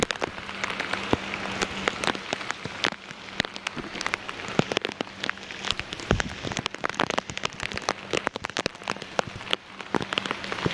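Rain falling at a ferry jetty on the Mandwa–Mumbai route, a steady patter of drops on surfaces with frequent sharp close taps throughout, nobody speaking.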